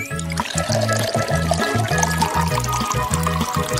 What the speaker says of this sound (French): on va verser plus de lait au chocolat dans le café de Starbucks